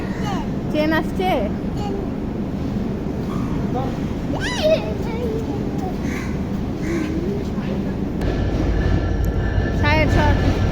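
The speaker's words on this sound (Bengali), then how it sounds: "ট্রেন আসছে?" Train rumbling past in a steady heavy roar, with crows cawing nearby and people talking over the noise.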